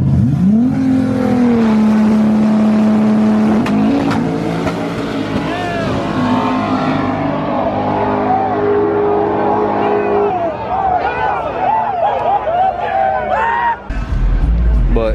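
Loud Nissan 240SX race car at a drag strip, engine droning and revving with rising and falling pitch, crowd chatter and voices mixed in beneath the engine throughout.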